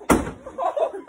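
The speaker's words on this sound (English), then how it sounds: "He broke the door." A door slams hard as it breaks, one sharp loud bang up close, followed by voices and a little laughter.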